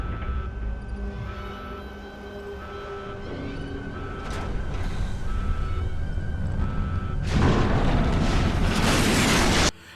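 A sabotaged rocket launch bursting into a fireworks explosion in Fallout New Vegas, a low rumble building into a loud, dense roaring blast before cutting off abruptly.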